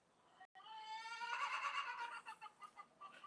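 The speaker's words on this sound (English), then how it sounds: "Those chickens are getting worked up." Chickens cluck and squawk in an agitated burst, a rising cackle followed by shorter, choppy clucks, fairly faint and heard alone.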